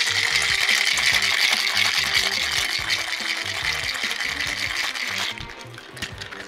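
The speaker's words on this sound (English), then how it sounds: "Three ounces of Sour Apple Martini mixer, and we're gonna shake this up." Ice cubes rattling hard inside a cocktail shaker holding sour apple martini mixer, a fast rhythmic shaking that runs loud and steady, then eases and stops near the end.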